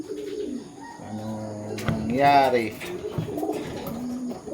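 Pigeons cooing in a loft, soft repeated coos near the microphone with a louder, rising call in the middle, while someone talks over them.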